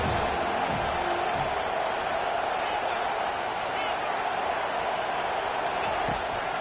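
Stadium crowd at a Penn State vs USC college football game on third down, a dense, loud wall of cheering and roar that holds steady throughout.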